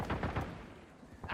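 Gunfire in the Warzone battle royale game, a few sharp shots clustered at the start and again at the end, with busy game noise between them.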